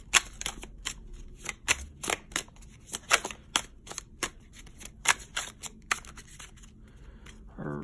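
Tarot cards are shuffled by hand in a series of crisp, irregular riffling bursts and soft slaps, close and fairly quiet, with no talking over them.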